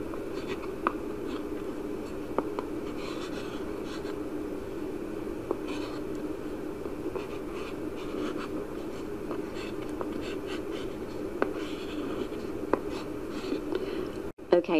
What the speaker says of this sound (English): Whenever you're ready, please start writing.